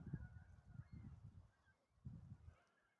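Ducks on a lake give faint, distant, nasal honking calls in short clustered bursts with brief quiet gaps, heard alone without any talking.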